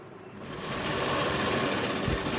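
A sewing machine runs along the canvas edge of a pant lining, a brief, close, steady motor hum and needle chatter that swells in after a quiet start, without voices.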